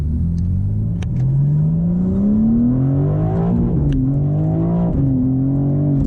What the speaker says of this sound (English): So we'll downshift to first gear.